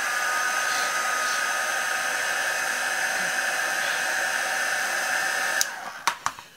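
A hair dryer runs steadily over a watercolor painting, a close, even whooshing hiss with a faint tonal whine, then switches off, leaving a few sharp knocks and taps.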